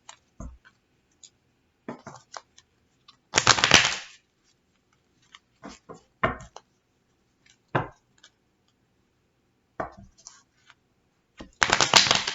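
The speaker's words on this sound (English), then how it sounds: "So we're going to do 5 shuffles." Tarot card deck shuffled by hand in separate bursts: short riffling and tapping clicks scattered across a quiet room, with two longer, louder riffles standing out.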